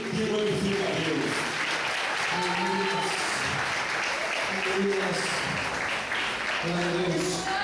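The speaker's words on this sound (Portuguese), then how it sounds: "as palmas bem forte que glorifica a Deus" A church congregation claps loudly along with a worship band in continuous dense clapping, with singing and voices mixed over it the whole time.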